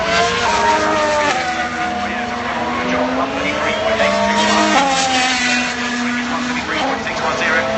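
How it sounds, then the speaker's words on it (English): A Formula 1 car powers through Cox Corner in a qualifying session, its high-pitched engine note rising and falling through gear changes, loud and close, with race commentary running over it. "Nico Rosberg up through Cox Corner"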